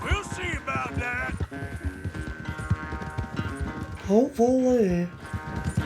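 Horse hooves gallop in Red Dead Redemption 2 during a race, a steady clip-clop rhythm running under game music and a voice that talks over it.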